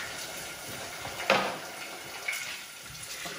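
Tap water runs briefly into an emptied tomato tin to rinse its lid while tomato sauce is made, giving a short close splash and trickle over a steady background hiss, with no talking.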